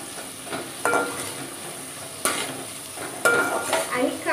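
Onions fry in a pan over a high gas flame for Mumbai street-style pav bhaji, giving a steady sizzle broken by several sharp scraping stirs.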